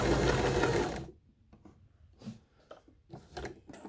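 A Janome My Style 20 sewing machine runs a short, loud burst of fast stitching, then stops and gives way to quieter clicks and handling knocks nearby, with no talking.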